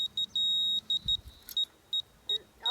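A laser level receiver gives repeated short electronic beeps in an irregular rhythm, one longer tone among them, with faint handling noise.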